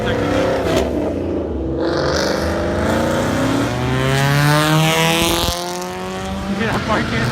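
Ford Mustangs pulling away from a car meet, engines revving and rising in pitch with passing roar and a brief tire squeal, heard amid crowd chatter and people talking nearby.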